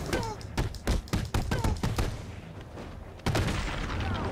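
Sniper and other gunfire in Batman Arkham City, a rapid run of sharp cracking shots close together, a brief pause, then another loud blast with lingering rumble.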